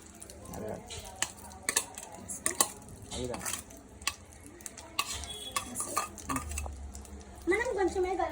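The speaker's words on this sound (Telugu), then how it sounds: "దీన్ని కొంచెం మిక్స్ చేసుకుందాం." Egg chicken fried rice being stirred in a hot pan, with repeated scraping and clanking of a metal spatula against the pan over a steady sizzle, close and uneven in rhythm.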